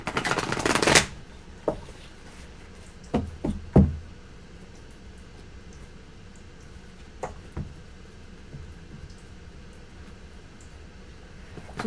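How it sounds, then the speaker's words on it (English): A burst of shuffling a thick tarot deck opens the clip, followed by a few soft taps and knocks, then quiet room tone with occasional light handling sounds. "you can shuffle for Violet."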